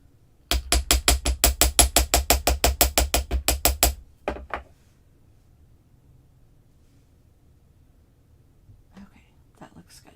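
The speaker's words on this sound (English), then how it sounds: "And I'm going to hammer that just a little bit more." Ball peen hammer striking a wire bangle bracelet on a bench, a fast, steady run of about fifteen sharp metallic taps, then a couple of isolated hits and quiet handling noise.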